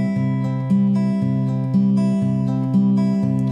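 A guitar rings out a figure-8 fingerpicking pattern played with thumb and middle finger: bass notes alternate with higher plucked strings in a steady, even loop, close and alone with no talk.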